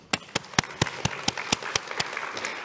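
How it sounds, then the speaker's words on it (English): An audience at a speaking event applauds, with close, sharp individual claps standing out over a steady wash of crowd clapping. "Keep that applause going as we welcome our next speaker, Dr. Robert Warwick."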